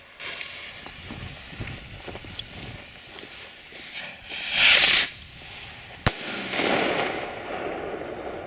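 A firework rocket whooshes upward in a bright hissing burst, followed by a sharp crack and a lingering crackle over faint outdoor background noise.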